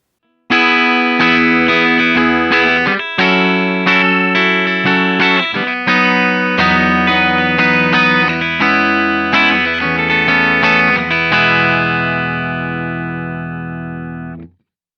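An Ibanez S561 electric guitar played through its bridge humbucker rings out in a run of loud, effects-laden chords and notes, with distortion and chorus, ending in a long sustained chord that decays to silence.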